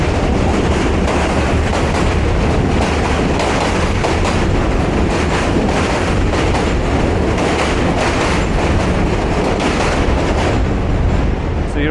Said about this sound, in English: There's another subway train.